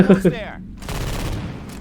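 Gunfire shooting a jockey egg nest in Left 4 Dead 2: a quick burst of dense shots follows a short voiced sound at the start, with loud, steady rattling fire continuing to the end.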